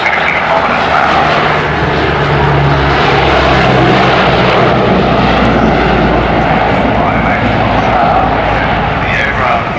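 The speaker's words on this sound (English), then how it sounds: "The aircraft flying and will strictly demonstrate a terrain avoidance climb and then pre-position for landing." A four-engine turboprop P-3 Orion flies a terrain avoidance climb, its propellers and engines making a loud, sustained droning roar that stays steady and near throughout.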